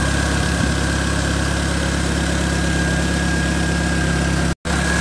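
The engine of a Mk3 VW Golf idles smoothly and steadily with a constant hum, nearby and uninterrupted apart from a momentary dropout near the end.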